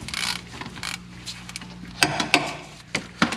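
A ratchet works a differential drain plug loose on a Mercedes, giving soft scraping mechanical sounds and then several sharp clicks near the end, close and fairly loud.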